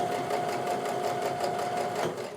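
Sewing machine stitching a quarter-inch seam through fat quarter cotton pieces for a half-square triangle quilt, a fast continuous mechanical whir with a steady needle rattle, close and even, alone with no speech.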